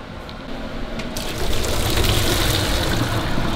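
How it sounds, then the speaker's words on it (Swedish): Water pours steadily into a container of instant noodles, close by and continuous, with the gush getting fuller as it fills and no talking over it. "Jag brukar hälla i lite vatten för det ska bli kallt och så."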